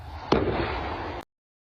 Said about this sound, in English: this home security video where you can hear the bomb detonate a few houses away